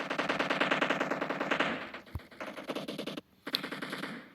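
Automatic gunfire from a firefight in the video game PUBG, rapid bursts rattling in quick succession, loud and close, with a brief lull before more shots.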